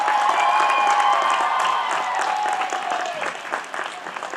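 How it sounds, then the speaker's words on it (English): Audience at a university graduation ceremony applauding, a dense, steady wash of clapping from a large crowd that fades slightly toward the end. "can you please join me in applauding your friends and family and the faculty and staff of the university"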